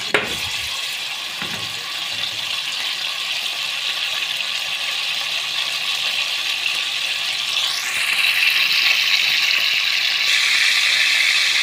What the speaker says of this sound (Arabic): هنسيحها كده في الزيت، نديها تشويحه كده في الزيت